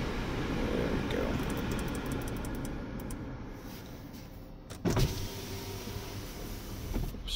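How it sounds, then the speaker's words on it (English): Power windows roll down inside a 2017 Audi A4, a faint steady motor whine under quiet cabin noise. A brief bump follows near the end. "Just rolling down the windows so we can listen to the suspension."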